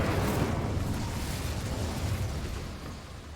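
In Hogwarts Legacy, an Incendio fire spell erupts in a dense, roaring burst that starts loud and slowly fades over a few seconds, with no talking.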